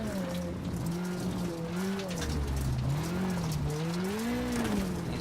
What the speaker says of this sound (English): I'm in too high of a gear. I'm just making a wheel spin.